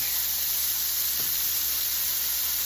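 Leeks sizzle in butter in a hot pan, a steady close hiss of frying that holds evenly throughout.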